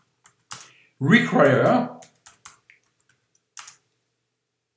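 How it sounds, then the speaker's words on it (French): Computer keyboard keys tapped while entering a terminal command, a few sharp isolated clicks around a short spoken word, close and crisp. "dans mon terminal, je tape Composer"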